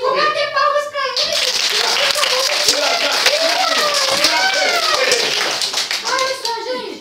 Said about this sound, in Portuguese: Vou bater palmas pra ele.